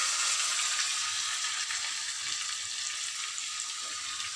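Curry leaves and green chili paste dropped into a cumin tempering sizzle for rava biscuits, giving a steady, bright hiss of hot oil that fades slightly as it continues.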